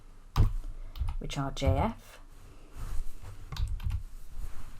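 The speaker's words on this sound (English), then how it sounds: "So let's go ahead and type the first few values" Keys clatter on a computer keyboard while values are typed into an Excel spreadsheet, short bursts of close clicks mixed in with someone talking.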